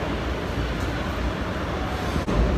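Low, continuous rumble and rattle inside a moving double-decker train in Barcelona, a steady broadband roar with a brief dip and jolt near the end.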